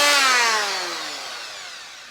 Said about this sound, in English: That's my new sander.